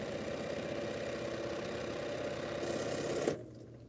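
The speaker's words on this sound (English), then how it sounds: "Now I feel like this Bernina does sew a whole lot faster than my Elagio." A Bernina sewing machine runs fast and steady in a continuous whirring hum, then stops abruptly near the end, leaving quiet room tone.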